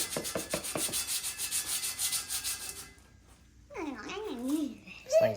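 Brisk scrubbing of dirty engine parts during a valvetrain and roller cam rebuild on a Henry J car, heard as rhythmic rubbing strokes for about three seconds, followed by a pause and then people talking.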